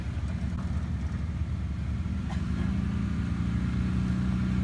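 Off-road vehicle with new lifts revving its engine under load on a light trail, a steady close rumble that climbs into a stronger, sustained drone.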